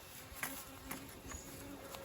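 European honey bees (Apis mellifera) buzz faintly around a hive during an autumn check, a quiet steady drone with scattered individual wingbeat passes nearby.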